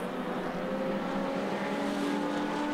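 Race cars circulating at the 2017 Bathurst 6 Hour, a steady loud blend of engine drone with sustained tonal whine, no clear pass-by peak, continuous throughout.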